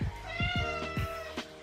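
Several hungry cats meow for food as it is set in their bowls, a quick run of overlapping, rising and falling meows from close by, one after another, with no talking.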